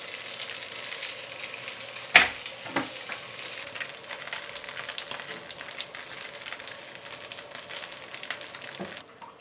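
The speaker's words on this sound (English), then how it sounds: "we're going to cut off a little chunk like this, and we're going to pan fry them." Chunks of Chinese turnip cake pan-frying, with a busy crackling sizzle close by, a sharp clatter near the start, and occasional stirring pops over the steady hiss.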